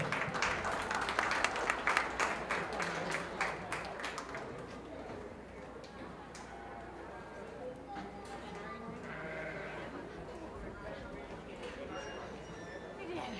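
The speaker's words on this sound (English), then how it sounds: "Let's give her a real nice round of applause." Crowd applause at a junior fair sheep show fills the first few seconds, then fades into murmuring room noise with occasional sheep bleats.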